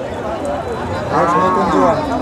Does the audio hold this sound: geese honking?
no